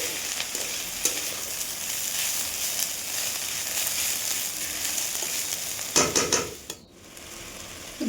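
Mustard greens fry in a pan with a steady, close sizzle that runs without a break. Near the end a few stirring scrapes and clatters come through, then the sizzle briefly dips.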